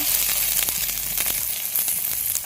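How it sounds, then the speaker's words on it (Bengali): Browned onion with ginger paste fries in a pan, giving a steady crackling sizzle with scattered sharp pops and spatters, close and continuous with no talking. "তো এবারে এই দুটোকে ভালোভাবে ভেজে নিতে হবে।"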